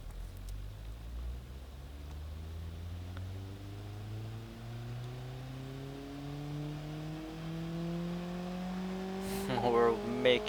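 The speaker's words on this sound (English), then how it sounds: "Now we can test it on the dyno and see how it does." A simulated car engine run on a dynamometer in a car-building tycoon game climbs steadily in pitch as it revs up through one long, continuous sweep, loud and close.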